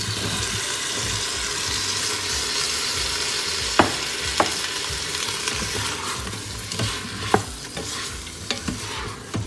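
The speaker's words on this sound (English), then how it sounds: "once tomato is semi-cooked, add all the vegetables of your choice." Tomato and mixed vegetables frying in a pan for vegetable pulao, a steady close sizzle with occasional sharp scrapes and clinks of stirring, no talking.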